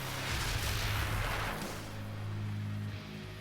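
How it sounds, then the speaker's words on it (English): Fireworks launching in an anime fight scene, a dense rumbling roar of bursts and crackling booms that swells, eases, then builds again, loud and sustained throughout. "launching the fireworks off a person's face"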